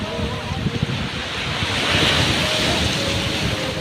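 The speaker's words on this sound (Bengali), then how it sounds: "কত সুন্দর দেখো কত ঢেউ উঠছে" Ocean waves breaking on the beach at Digha, a loud close surf roar swelling and rushing with heavy wind buffeting the microphone.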